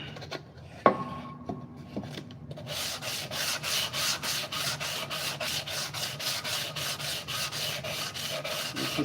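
A vehicle light housing is hand-sanded with 220 grit sandpaper, a close, steady scratching rub repeated in quick even strokes around its edge, after a few light taps and clicks at the start.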